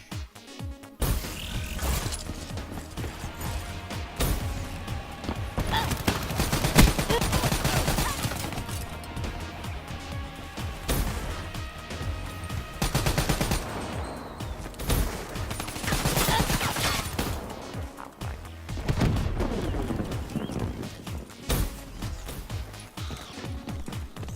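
A non-assault-rifle gun in Black Ops 3 fires in loud, rapid bursts of gunfire, with mechanical clatter and crashing game effects between the volleys.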